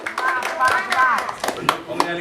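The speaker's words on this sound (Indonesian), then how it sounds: "Berikan tepuk tangannya." Audience clapping for a child contestant at a children's scripture-reading competition, mixed with excited shouting voices and cheering that largely cover the scattered hand claps.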